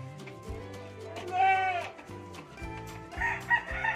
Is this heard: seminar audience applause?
no